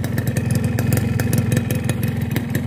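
A cold two-stroke motorcycle engine runs during a smoke test with a loud, close, rapid popping idle, steady and uneven in its rattling pulses, with no talk.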